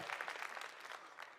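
Audience applause at a democracy forum, a dense patter of many hands clapping steadily at moderate distance, fairly soft and even throughout.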